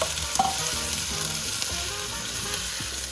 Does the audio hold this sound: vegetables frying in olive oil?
yes